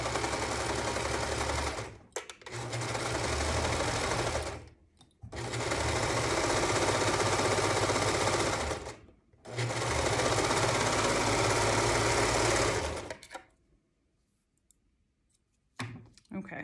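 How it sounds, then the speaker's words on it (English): A serger stitches two pieces of fabric together for a beginner face mask, running in three long loud bursts with short pauses between them, then stopping into near silence with a faint click. "so there's our two pieces sewn together"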